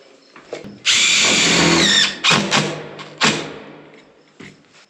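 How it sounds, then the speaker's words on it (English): A power drill drives screws into a metal roofing panel on a barndominium porch: one long loud whine, then shorter bursts with thuds between, close up and without speech. "And just work your way down screwing it"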